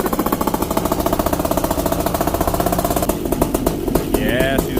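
An Air Conception Tornado 280 paramotor engine, freshly rebuilt with new piston, cylinder, head gasket, spark plug and rod bearings, runs close and loud with a rapid steady firing rhythm, revving slightly low, then shifting tone near the end.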